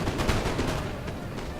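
Rapid gunfire from troops in a 3v3 battle on the Sunken Jungle map of a video game: dense, continuous volleys of shots and crackling fire filling the whole stretch at steady loudness, with no clear speech.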